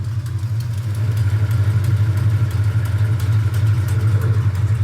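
A 1972 Plymouth Road Runner engine idling with an exhaust leak: a steady, low, lumpy rumble with a faint rhythmic ticking and clatter on top, close and unbroken throughout.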